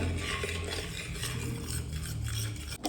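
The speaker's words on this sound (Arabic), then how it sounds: "مش نضيف الحكة كريم فريش ونحركهم مع بعضهم" Melted chocolate and fresh cream are stirred together in a bowl for a chocolate biscuit cake, a steady close scraping and swishing that runs without a break, with one sharper knock near the end.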